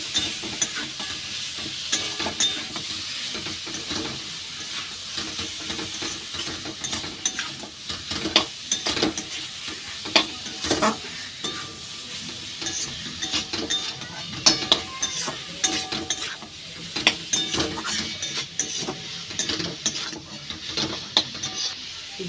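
Boiled cabbage being stir-fried with masala in a pan, a close, continuous sizzle broken by repeated scraping and clattering strokes of a spatula against the metal.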